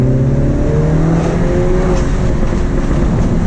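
Modified manual Mini Cooper S heard from inside during a drive with the window open, the engine droning loud and steady as it revs, with faint popping crackles from the exhaust under the engine note.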